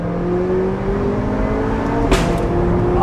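A McLaren 675LT Spider MSO Carbon Series accelerates hard on a damp road, its engine droning loudly and rising in pitch, with a single sharp exhaust crack bursting out near the end.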